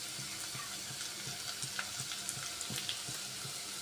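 Spices and garlic, including hing, turmeric and Malvani masala, sautéing in a pan for a jackfruit dish, a continuous soft sizzle with regular light stirring taps, close and fairly quiet, no talking.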